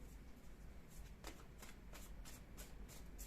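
Angel cards are shuffled by hand in a quick series of soft, papery riffles and flicks, close and fairly quiet, repeating in an uneven rhythm with no talking.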